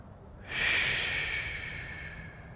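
One slow breath drawn during a yoga exercise, heard close and soft, rising quickly and then fading gradually over about two seconds.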